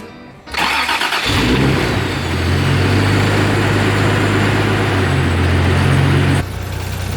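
A Nissan 240SX cold engine cranks and catches, then settles into a loud, steady idle with a raised, revving drone that holds for several seconds before dropping back near the end.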